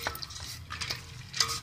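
Pasta being stirred in a pot of boiling water with salt and oil, giving a few light scraping and knocking strokes against the pot over a soft bubbling background, with no talking.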